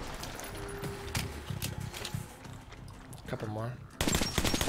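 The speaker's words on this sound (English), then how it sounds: "They're just shooting shotgun shells." Shotgun blasts in the game Metro Last Light Redux crack out in several sharp reports amid battle noise, heard fairly quietly behind someone talking.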